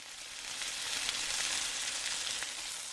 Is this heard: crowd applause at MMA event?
no